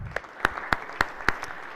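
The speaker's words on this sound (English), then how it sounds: "I'll give them a round of applause" A few people clap slowly and evenly in a legislative chamber for introduced high school students, sharp separate claps spaced about a quarter second apart, sparse and moderately close.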